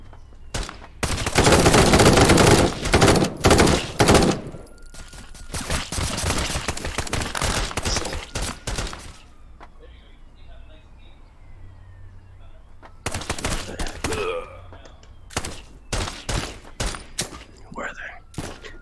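Bursts of automatic gunfire in the VR game Blade & Sorcery, loud rapid volleys crowding the first half, then scattered sharper shots after a quieter gap with faint movement sounds.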